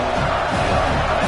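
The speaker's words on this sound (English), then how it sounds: "Decibels rising as the crowd gets behind this defense on third down." An American football stadium crowd roars loudly and steadily during a third-down play, a dense, sustained wall of cheering and yelling.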